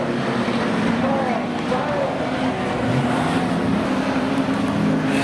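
Speedway race cars roar steadily through the closing laps of a dirt-track race, a continuous loud engine drone with commentary over it.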